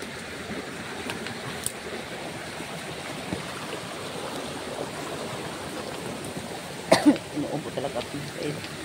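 A person coughs in a short cluster near the end, a few harsh bursts rising above a constant rushing, water-like background noise.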